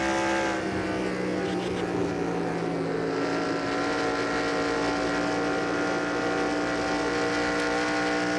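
Race cars on the final lap of a night race in the NASCAR Racing 2003 game, a loud steady engine drone at high revs with sustained harmonic whine and no pauses.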